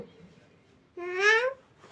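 A single voice imitates a cat with one short, rising-falling meow, close and clear against near silence.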